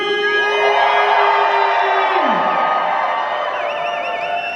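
A large crowd at a Walking Dead fan convention cheers and whoops loudly, a sustained roar of voices with high shouts and whistles rising over it for several seconds.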